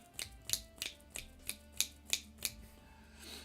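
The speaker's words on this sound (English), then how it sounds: "Jazz clapping." Eight crisp finger snaps in a slow, even rhythm, done as jazz-style clapping, close and fairly quiet with no talk over them.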